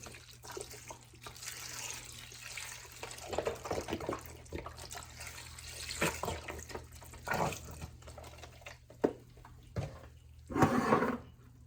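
Chicken broth pours into a slow cooker and splashes in uneven bursts, fairly quiet and close, with a few louder gushes near the end.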